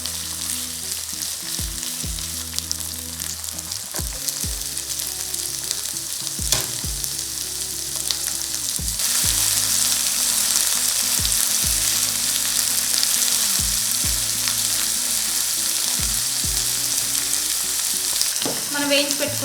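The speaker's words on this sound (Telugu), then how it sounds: "కొంచెం కరివేపాకు వేసుకుంటున్నాను" Curry leaves dropped into hot oil for a Telugu ivy gourd (dondakaya) dish crackle and sizzle steadily, with clattering stirring knocks throughout and a louder burst of frying about halfway through; no talking.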